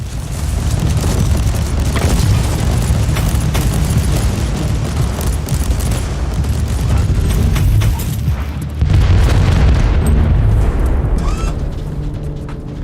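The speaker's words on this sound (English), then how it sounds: "The Marauder bombers are launching a second wave of bombardment." Marauder bomber bombardment in a video game: a continuous, loud barrage of heavy booms and rumbling blasts with dense low-end roar, sustained throughout with a brief dip before a renewed surge.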